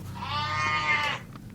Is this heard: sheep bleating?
yes